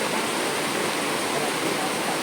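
Floodwater rushing in a strong, steady roar, a dense broadband wash with no breaks, loud and continuous.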